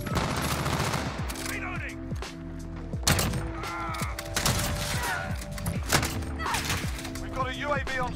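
Gunshots in a shooter video game ring out as a dense string of sharp, close shots and bursts, with a voice talking over much of the fire throughout.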